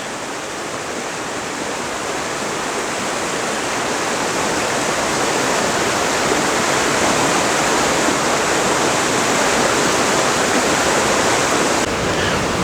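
The Castor River rushes loudly and steadily around big boulders at the Castor River Shut-Ins near Fredericktown, Missouri, a dense roar that swells slightly at the start and then holds constant.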